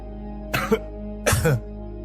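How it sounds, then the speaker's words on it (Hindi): Two separate coughs, close and fairly loud, with a short pause between them over a quiet, steady background hum. "अंदर से किसी के खांसने की आवाज आई।"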